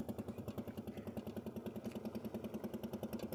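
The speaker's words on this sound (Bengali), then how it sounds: "পাশ দিয়ে জেলেদের নৌকা যাচ্ছে," A fishermen's motorboat engine passes on the Padma River, its steady mid-pitched chugging pulsing in a quick, even rhythm, fairly close and continuous throughout with no talk.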